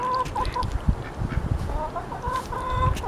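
Homestead poultry flock, about 13 or 14 chickens, clucking and calling in a busy, continuous chorus at moderate distance, with a few honk-like calls mixed in and no talk.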